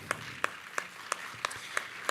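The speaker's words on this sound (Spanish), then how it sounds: "Un aplauso de gloria a Dios." Applause during a church service, heard as a sparse, slow run of separate claps at an even beat, quiet and somewhat distant, with no talk over it.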